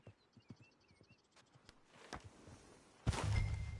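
Horse hooves clip-clopping on the ground in the Western video game Red Dead Redemption II, a steady walking beat of soft thuds that grows into louder, closer hoofbeats toward the end.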